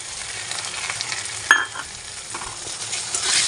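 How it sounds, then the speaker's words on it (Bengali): Onion, ginger and garlic paste goes into a pan of fried tomato and chopped onion, sizzling softly and steadily up close, with one sharp clatter of a utensil partway through and the frying swelling slightly near the end. "এবারে আমি পেস্ট করা পেঁয়াজ আদা রসুনটা দিয়ে দেবো"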